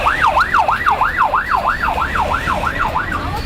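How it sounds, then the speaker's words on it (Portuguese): An SAMU ambulance siren wails in a steady rising-and-falling cycle, loud and close, as it arrives at a traffic accident scene on a closed-off road, with faint speech beneath. "nós acompanhamos a chegada de mais uma ambulância do SAMU"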